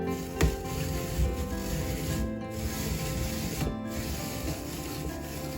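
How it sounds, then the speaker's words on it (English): A hand-crank apple peeler turning and peeling an apple, a steady close whirring and rubbing grind with faint occasional clicks, continuous and moderately loud, with no voices. "And then you just crank it like this. And this little thing is gonna peel the apple for you."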